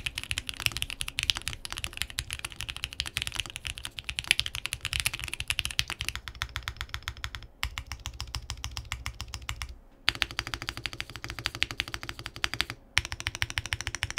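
Mechanical typing on a QK75n keyboard with an aluminium plate and PE foam, a steady stream of close, muted marbly clacks with brief pauses, no talking.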